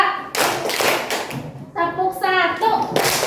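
Children clap their hands in rhythmic bursts during a counting clap exercise in a classroom, sharp claps mixed with a teacher's voice and children's speech throughout.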